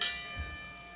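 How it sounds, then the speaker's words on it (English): A single bell at a wrestling show strikes and rings out, its bright tone sustaining and slowly fading. "And there's the bell."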